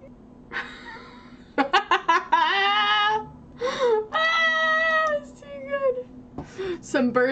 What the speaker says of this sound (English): I love how you can hear my own cat trolling me